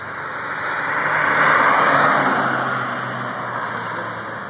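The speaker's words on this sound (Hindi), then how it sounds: "गाड़ी आ रही, गाड़ी आ रही पीछे।" A car approaching from behind on a road, a broad steady engine and tyre roar that swells to a peak midway and then eases off slightly, continuous throughout with no talking.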